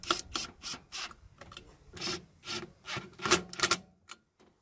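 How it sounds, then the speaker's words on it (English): Tightening a nut on a Yamaha 3000iS generator during a gas-to-propane conversion: a series of close, irregular metallic clicks and ratcheting scrapes, about a dozen short bursts over a few seconds, with no talking. "I want to tighten this down very gently"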